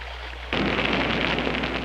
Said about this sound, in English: A little creek, not on the map.